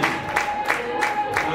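Applause from wedding guests for the couple at a Rwandan wedding ceremony, a short burst of clapping with periodic stronger bursts, moderately loud and steady throughout.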